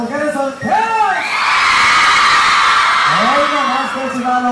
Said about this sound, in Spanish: esta noche queremos escuchar, a ver, el grito de las mujeres solteras